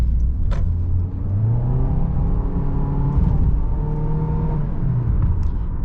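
A 2019 Honda HR-V LX with a small engine pulls away after a right turn, its engine note rising through the gears in clear upward sweeps with a brief dip at a shift, close and steady under cabin road noise.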